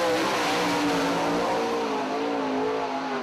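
A race car runs a lap at Sharon Speedway during the Lou Blaney Memorial, its engine roaring loud and close in one continuous, steady drone that holds the whole stretch with no voices over it.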